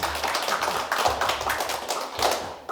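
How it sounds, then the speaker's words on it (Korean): An audience clapping at a campaign launch rally for presidential candidate Yoon Suk-yeol: loud, close, rhythmic bursts of hand claps repeating at a brisk, regular pace, with no speech over them. "박수 안 치십니까?"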